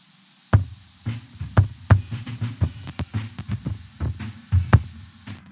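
Recorded kick drum pitched down eight semitones plays as a string of deep, booming thumps in an uneven rhythm, each hit close and punchy with a short low tail, alone without any voices.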